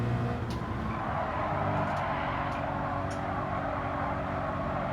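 Car engine from Gran Turismo 7 lapping a circuit during setup testing, a steady continuous drone with constant loudness throughout and faint tire noise, no talking.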